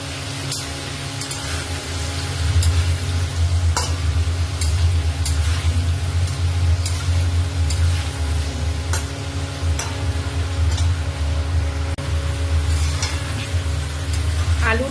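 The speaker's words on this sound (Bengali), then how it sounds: "আলু ভাজা হয়ে গেছে" Potato pieces frying in hot oil while cooking a chicken curry, a steady loud sizzle with bubbling crackle and occasional sharp ticks of stirring, close and continuous throughout with no talk.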